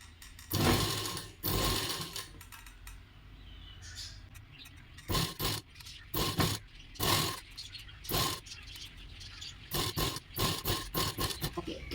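A sewing machine stitches blouse cloth in short irregular bursts, with stops and starts as the fabric is fed in bit by bit, fairly close and moderately loud.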